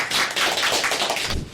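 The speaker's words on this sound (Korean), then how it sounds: "박수로 맞이해 주시죠" Audience applause at a Korean policy seminar on inflation-indexed taxation, a dense, steady patter of many hands clapping across the room that swells and continues without pause, briefly thinning near the end.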